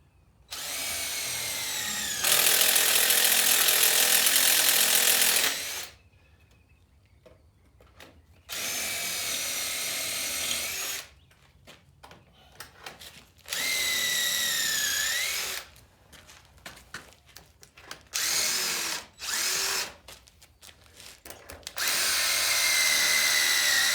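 A power drill bores a 1.5-inch hole into a stabilized compressed earth block to take a masonry anchor. It runs in several loud, close bursts of varying length, with quiet gaps and scraping between them.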